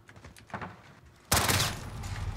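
A shotgun fires in Call of Duty: Modern Warfare (2019), one loud, close blast about halfway through, followed by lingering gunfire noise after quieter game sounds.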